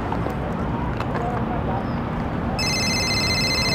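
A telephone ringtone begins partway through and repeats as a steady electronic ring over a noisy indoor background with low rumble and chatter.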